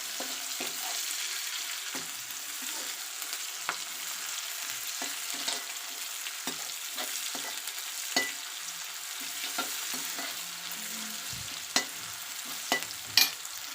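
Long-sliced onion frying in a pan for aloo gobi sabzi, a steady hiss of sizzling oil broken by scattered spatula scrapes and clinks, moderately quiet with no voices.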